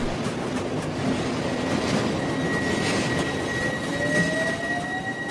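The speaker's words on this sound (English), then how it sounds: "Trains leave Fenchurch Street under a covered way." Train running on the North London Line, a steady rumble of wheels on track with faint clickety-clack and thin rising squeals from the rails, continuous and moderately close.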